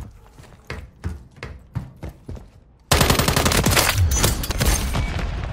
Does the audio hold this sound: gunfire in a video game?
yes